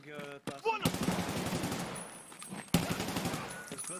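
Rapid bursts of automatic gunfire in Escape from Tarkov during a trio battle on Shoreline, several sharp volleys packed close together with a second loud burst partway through, while a voice talks faintly underneath.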